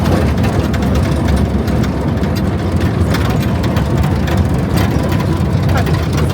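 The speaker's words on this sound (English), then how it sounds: "Driving fast. Maximum speed." A vehicle engine runs hard at speed through a village, a steady, loud rumble with constant road and wind noise that never lets up across the whole stretch.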